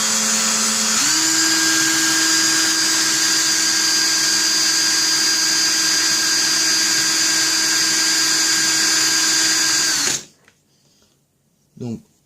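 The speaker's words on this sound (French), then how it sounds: "Je passe la machine au-dessus." A Clapton coil-wrapping machine runs steadily, wrapping fine 36-gauge wire over a 26-gauge core with a loud, even motorized whine that holds constant for about ten seconds, then cuts off, leaving faint handling noises.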